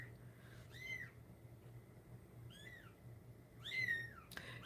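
A kitten meows three times in short rising-falling cries, fairly faint against a steady low hum in the room.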